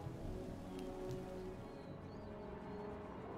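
Steady rain pours across a battlefield in the strategy game Empire: Total War during a storm, a dense, even hiss that stays constant and fairly close throughout, with no voices.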